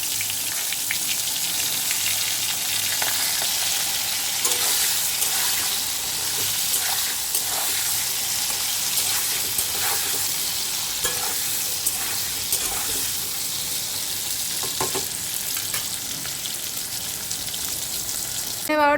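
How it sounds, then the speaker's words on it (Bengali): Pointed gourd (potol) frying in a pan, a continuous close sizzle and crackle with occasional scraping stir noises and faint background sounds, lasting the whole stretch. "পটলগুলো ভাজতে বসিয়ে দিলাম।"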